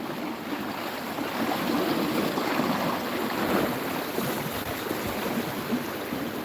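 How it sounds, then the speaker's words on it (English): A fast-flowing river forces its way under a bridge, giving a steady, broad rushing roar that holds constant throughout, close and fairly loud, with some wind buffeting mixed in. "There's a really fast flowing river here. You can hear it here. It's forcing its way under the bridge."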